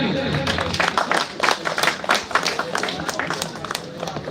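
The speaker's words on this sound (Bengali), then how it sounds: "জোরে হাততালি" Loud applause and clapping from an audience at an award ceremony, steady and sustained as a memento is handed over, with a voice talking over it.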